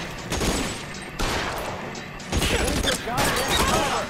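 Heavy gunfire in the game LA Noire, dense crackling volleys of shots in several loud bursts separated by brief lulls, close and chaotic, with clattering impacts mixed in.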